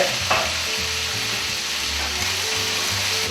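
Chicken pieces sizzle loudly in a hot pan, seasoned with salt and pepper, giving a steady hiss with a few scraping stirs and no talking.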